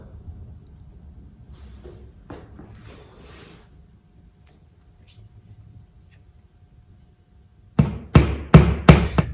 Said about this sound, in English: So I'm going to tap these in now.